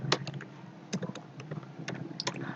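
Keys on a computer keyboard are tapped in a few sparse, quiet clicks while a formula is entered in an Excel spreadsheet, with no voices present.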